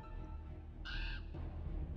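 A 3D-animated vulture in the Western adventure game Silverload gives a single short crow-like caw, harsh and bright, set against a steady low rumble of thunder and a dry storm.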